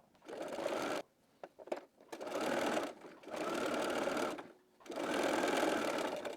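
Sewing machine basting a pocket to the waist of a Hazelton wrap dress, running in four loud, close bursts of rapid stitching separated by short pauses and a few quick single stitches.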